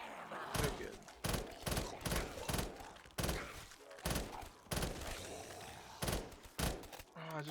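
Repeated sharp gunshots ring out in Call of Duty Modern Warfare (2019), coming in regular bursts of single cracks every half second or so, loud and close, with game sounds between them.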